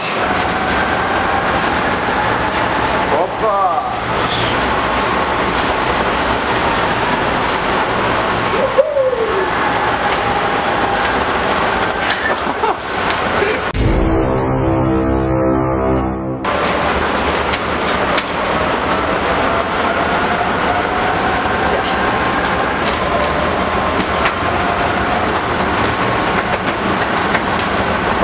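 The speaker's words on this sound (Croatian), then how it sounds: "dok se tramvaj kreće" A city tram rolls along its tracks with a steady low rumble and rail noise throughout, briefly interrupted by a loud clattering burst midway, while people talk and call out over it.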